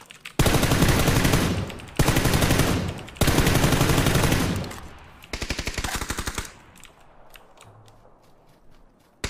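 Rapid automatic gunfire in PUBG bursts out in three long, loud sustained volleys, then a shorter burst and scattered single shots fading into quieter ambience.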